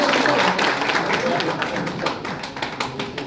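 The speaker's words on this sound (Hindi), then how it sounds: "पहला नाम तो मैं चाहूंगा मेरे लिए ताली बजाओ नंबर वन" An audience at a newspaper launch ceremony in a village setting claps in a short burst that starts loud and fades, with talking over it.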